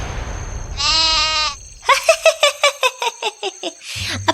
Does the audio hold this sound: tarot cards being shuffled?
no